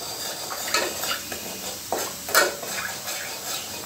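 Oil, salt and chilli powder being stirred in a kadai, giving scattered scraping and clinking strokes of a utensil against the pan, with a few brighter clacks in a quiet room.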